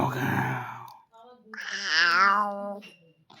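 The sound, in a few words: child imitating a cat's meow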